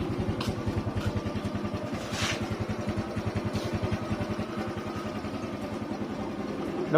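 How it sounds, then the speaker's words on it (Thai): A rebuilt Honda Wave 110i motorcycle engine with a newly bored cylinder and new piston runs steadily at close range, a rapid even putter with light mechanical clatter throughout and no talking. "ทำเครื่องมาใหม่ด้วยนะครับผมเปลี่ยนลูกสูบใหม่นะครับ คว้านมาใหม่นะครับ คว้านใหม่ทำลูกสูบนะครับ เสียงนะครับประมาณนี้"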